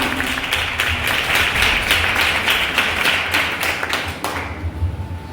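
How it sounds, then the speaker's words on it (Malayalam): An audience at a Malayalam Christian fancy dress program claps to welcome a costumed performer onstage, a dense steady round of applause that fades out near the end. "കൈയടിയോടെ അദ്ദേഹത്തെ സ്വാഗതം ചെയ്യാം."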